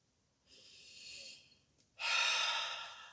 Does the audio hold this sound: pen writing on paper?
no